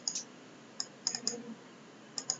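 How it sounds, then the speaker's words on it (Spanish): A computer mouse clicks quietly during work in Proteus circuit software, sounding as a few short, light taps, some in quick pairs like double-clicks, spread across a hushed background. "Entonces acá con doble clic le cambiamos las unidades."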